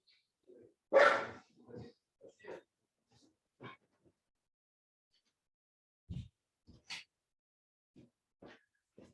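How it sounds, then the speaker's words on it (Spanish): Dogs bark in the background of an online medical webinar, scattered single barks and yelps spread out with quiet gaps between them, fairly faint and heard alone without talk. "Los perros son parte de los webinarios, así no te hagas problema, Alfonso"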